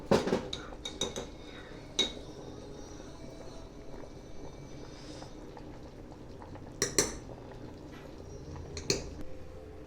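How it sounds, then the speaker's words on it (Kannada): A pressure cooker lid is closed on boiling vegetable pulao. Several sharp metallic clanks and clinks of the lid and utensils ring out over a low bubbling background, with a cluster of clatter at the start and another near the end. "ಲಿಡ್ ಕ್ಲೋಸ್ ಮಾಡೋಣ"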